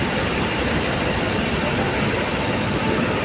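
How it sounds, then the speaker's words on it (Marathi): An MB Link luxury bus engine idles at a petrol pump stop on the Mumbai to Kolhapur route. The diesel rumble is close, loud and unbroken, a dense low drone with no pauses. "ही आहे आमची एम बी लिंक बस"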